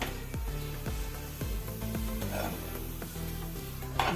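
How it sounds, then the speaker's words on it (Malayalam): Thinly sliced small shallots fry in hot oil for a curry tempering, giving a soft, steady sizzle with occasional scrapes and stirs of a spoon against the pan. "ചെറിയ ഉള്ളി വട്ടത്തിലരിഞ്ഞ് ഇത് ഇട്ട് കൊടുത്ത് ഉള്ളി ഒന്ന് മൂത്ത് വരണം"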